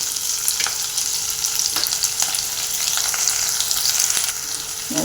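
Sliced onion and cashews sizzle steadily in hot oil for a tempering, with a dense crackling hiss and a few soft stirring knocks; no voices.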